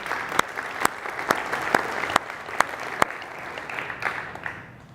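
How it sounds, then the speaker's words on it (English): Audience applause at a conference's opening session, a steady crowd clapping with sharp individual claps standing out, holding fairly loud for the full stretch before thinning slightly at the end. "So a round of applause for those sponsors as well."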